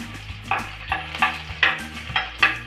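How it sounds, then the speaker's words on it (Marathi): Garlic sizzles in hot oil in a pan for a garlicky fenugreek dish, with soft frying hiss broken by about seven sharp scraping stirs at a roughly even pace, close and without speech. "तेल गरम झाले पण आता लसूण टाकू"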